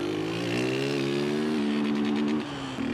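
A Honda Titan 160 motorcycle with a new aftermarket tin exhaust roars close by, its engine note climbing steadily as it accelerates, then briefly easing off and picking back up, loud and alone.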